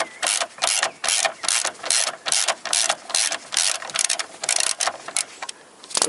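A ratchet wrench clicks rapidly and steadily at close range while loosening engine mounting bolts on a Toyota Corolla with a VVT-i engine, the fast ratcheting bursts running continuously with no talk.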